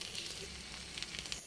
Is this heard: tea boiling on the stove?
yes